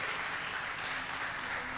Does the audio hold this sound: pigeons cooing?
no